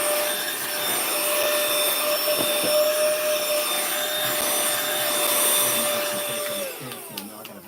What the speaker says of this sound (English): Now I got to vacuum the car out first